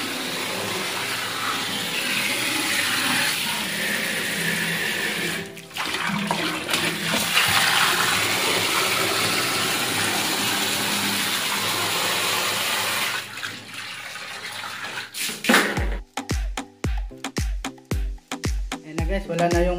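Water is poured into a clogged drain packed with thick ice underneath, giving a steady rushing wash that runs for several seconds, dips briefly, then returns. Quick rhythmic knocks follow near the end.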